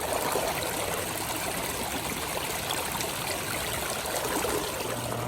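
A mountain creek near Benson Pass in the Sierra Nevada rushes and gurgles in a steady, even wash of flowing water, constant and moderately close, with no voices.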